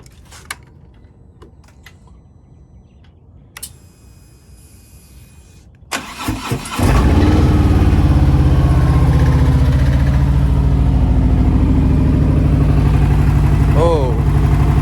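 A Harley motorcycle cranks and fires after a few quiet clicks and taps, then settles into a loud, steady, close idle rumble that continues to the end.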